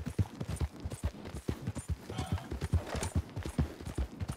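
Horse hooves clip-clop in Red Dead Online in a quick, regular, close rhythm, with a soft voice or two faintly behind the steady footfalls.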